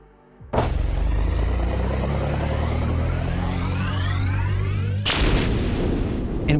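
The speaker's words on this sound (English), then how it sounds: "You fire up your jetpack." A jetpack fires up in a Warhammer 40K tabletop game scene, a sudden loud blast swelling into a roaring, rising whoosh that sustains for several seconds before a second surge near the end.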